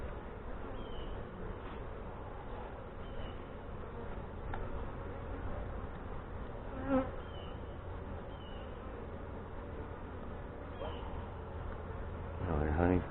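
Honey bees from a hive headed by a Saskatraz queen, opened for a fall feeding and inspection in northwest Wisconsin, give off a steady, dense buzzing hum throughout, with a few brief louder passes and a burst of rustling near the end.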